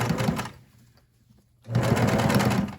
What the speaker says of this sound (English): So when sewing, give it a little start, and then go backwards to reinforce it, and then go ahead.